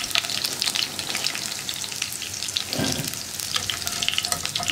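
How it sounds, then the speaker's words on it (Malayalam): Soya chunks deep frying in hot oil for a soya egg roast, a steady dense sizzle and crackle throughout with a brief lower gurgle near the middle, close and alone with no talk. "ഇത് നമുക്ക് ആദ്യത്തേതുപോലെ തന്നെ ഫ്രൈ ചെയ്തെടുക്കാം."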